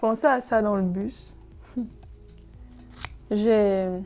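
Kitchen scissors cut hair in a few brief, sharp snips that sit under and between a person speaking in French close to the microphone.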